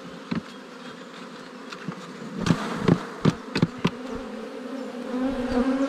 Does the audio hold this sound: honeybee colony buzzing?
yes